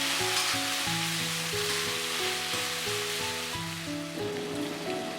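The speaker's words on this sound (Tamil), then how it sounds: "2 தக்காளி போட்டிருக்கேன். போட்டுட்டு வதக்கி விட்டுக்கலாம்." Tomatoes sauté in a pan with a steady hiss of sizzling oil, continuous and close, while melodic background music plays over it.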